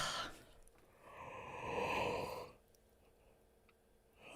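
A long, breathy yawn from a woman, a drawn-out exhale rising and easing off, heard up close in a quiet room with brief breath sounds around it.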